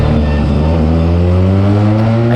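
A Benelli 300 motorcycle fitted with an Akrapovic exhaust revs hard in a narrow lane, its engine note loud, close and bassy, rising steadily in pitch for a couple of seconds with no talking.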